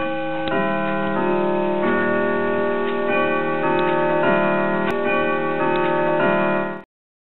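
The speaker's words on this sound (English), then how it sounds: "He cleaned the grandfather's clock, which chimes 10 times." Steady ticking of a grandfather clock under a dense, sustained layer of ringing chime tones, loud and continuous for about seven seconds before cutting off abruptly.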